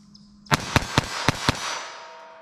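Five sharp shots from a .22 Long Rifle firing Remington Golden Bullet ammunition, fired in quick succession at slightly irregular intervals, loud and close, each crack followed by a lingering ringing decay.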